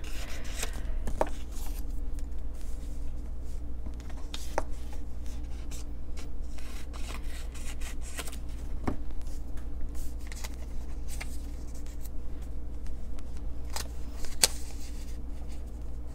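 Scissors snip paper in a few short, sharp cuts spread across a quiet, softly humming room as a picture is trimmed down for a journal page.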